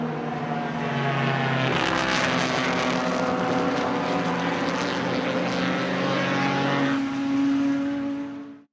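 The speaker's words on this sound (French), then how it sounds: "des voitures un peu moins puissantes qui animent le plateau, telles que cet Alfa Romeo 1750 GT-AM ou encore les Ford Escort et autres BMW 2002" Vintage racing cars such as an Alfa Romeo 1750 GT-AM, Ford Escort and BMW 2002 roar past on the Monza circuit, a loud sustained engine drone with shifting pitch that swells and fades as they pass.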